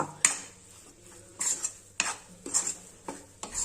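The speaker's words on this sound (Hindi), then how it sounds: "अब आटे में को अच्छा लाल होने तक और खुशबू आने तक लगातार चलाते हुए भून लेंगे।" Flour being stirred and roasted in a pan for flaxseed mawa laddu: a spoon scrapes and knocks against the pan in sharp, irregular strokes about every half second, with a faint low sizzle underneath and no talk.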